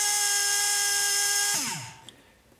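A Blinky brushless RC motor with a 45 marking on the endbell, run up on a kV test to about 24,000 RPM. It gives a steady high whine, then winds down with falling pitch, fading out near the end.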